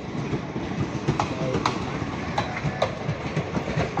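Local passenger train running on the Parbhani to Partur line, heard from onboard: a steady loud rumble with rhythmic clicks of wheels over rail joints, a few faint bird calls, no talk.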